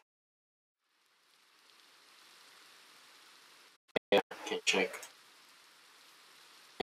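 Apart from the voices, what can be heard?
rain falling in Minecraft, a video game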